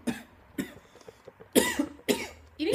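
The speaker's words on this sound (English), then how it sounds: "You need to stop coughing because you're moving the camera." A person coughs several times in short, sharp bursts, close by, with brief quiet gaps between, growing harsher toward the end.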